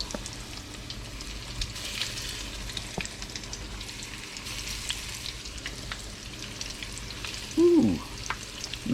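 Catfish pieces frying in hot peanut oil give a continuous crackling sizzle at moderate level, with a brief louder scrape or clatter near the end and no talking.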